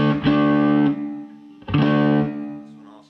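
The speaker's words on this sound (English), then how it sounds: "It's a Roger Mayer pedal. And this is set up more towards for just a clean boost kind of sound." Electric guitar played through a Roger Mayer Voodoo 1 pedal set for a clean boost rings out as two sustained, harmonically rich chords, each fading slowly, close and fairly loud with no talking.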